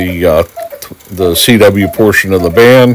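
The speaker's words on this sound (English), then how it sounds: "you can hear my cuckoo clock going off in the background" A cuckoo clock calls in the background, its soft cooing notes partly buried under someone speaking steadily in the foreground.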